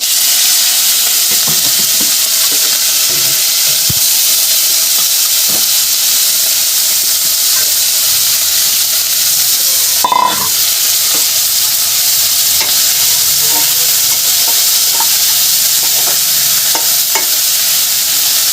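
Cumin seeds and onion frying in a pan for a Bengali rui fish curry, a loud steady sizzle and hiss throughout, with faint stirring scrapes and one brief clatter midway.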